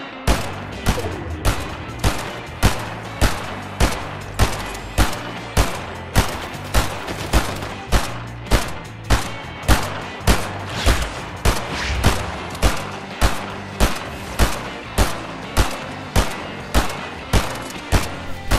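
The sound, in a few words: gunfire sounds in the video game Fortnite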